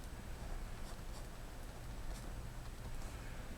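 A pen writes out a math theorem by hand in faint, close scratches and short strokes over a steady low background hum, with no talk during the writing.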